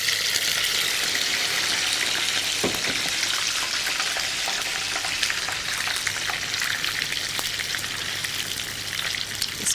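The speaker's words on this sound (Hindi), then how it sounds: "यहाँ ऑयल गरम हो गया है, इसमें मैं ये फ्राइज़ शामिल कर रही हूँ" Fries crackle in hot oil in a cooking pan, a steady dense sizzling hiss with scattered pops, close and continuous for the whole stretch.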